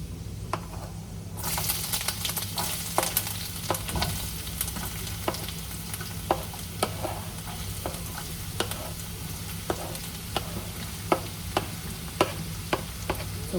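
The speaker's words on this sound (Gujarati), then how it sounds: "થોડું એને સોટે કરી દઉં હું." Chopped carrots sauté in a hot pan with browned garlic and leftover rice, a steady sizzle broken by regular scraping and clinking stirs of a spoon.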